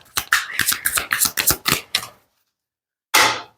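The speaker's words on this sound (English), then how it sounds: "so it kind of shakes when I shuffle." Playing cards being shuffled on a shaky, unfamiliar table: a rapid series of sharp riffling clicks and taps for about two seconds, then a pause and one more short burst, close and fairly loud with no talking.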